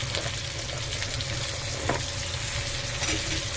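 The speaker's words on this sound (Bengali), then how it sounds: "পেঁয়াজটা ভাজা ভাজা হয়ে গেছে, এবার কেটে রেখেছি সবজিগুলো দিয়ে দিচ্ছি।" Chopped pumpkin, eggplant and potato hit a pan of fried onions for a Bengali ghonto, giving a steady, close, loud sizzle of frying with faint stirring scrapes throughout.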